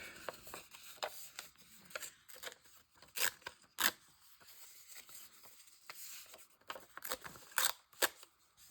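Scissors snip through paper for a collage in a quiet room, sharp isolated cuts spaced irregularly with soft rustling of paper between them, close and fairly faint.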